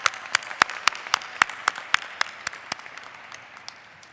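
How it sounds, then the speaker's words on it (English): Applause from the audience at a law school commencement ceremony: a burst of sharp, distinct claps that starts fairly strong and thins out over about four seconds, with no talking over it. "Give yourself another round of applause."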